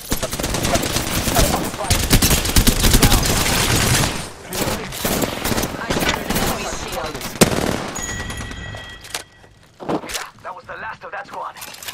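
Apex Legends Season 12 ranked gunfire: dense rapid automatic bursts and single shots crackle loudly and repeatedly, thinning out toward the end with a few sharp cracks, while in-game voice lines play over them.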